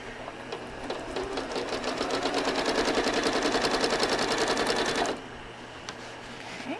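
A home sewing machine stitches a quilt using rulers, running in a fast, steady mechanical chatter for about five seconds before stopping abruptly, close and fairly loud with no talking.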